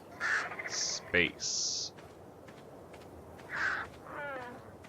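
Bird cawing in the video game Ark: Survival Evolved, several short crow-like calls scattered through the moment, fairly clear against a quiet background.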